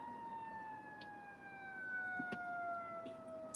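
Emergency vehicle sirens during a police chase, ambulances and fire trucks among them, wail steadily at a distance with slowly falling tones over faint background noise, and a few brief knocks break in.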